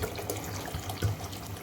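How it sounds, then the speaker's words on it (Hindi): Water pours into a cooking pot of chicken and lentils, a soft continuous splashing stream heard close and alone, fairly quiet. "इसके अंदर मैं पानी ऐड करूँगी।"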